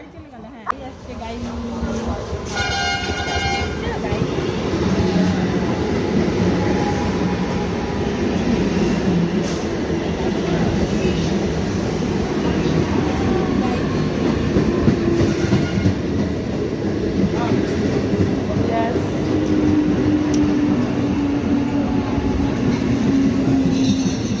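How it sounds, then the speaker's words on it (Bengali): A train rumbles steadily past up close, its wheels clattering and droning for the whole stretch, with brief squeals and voices faintly audible underneath. "ওই যে ডাউনে ট্রেন যাচ্ছে"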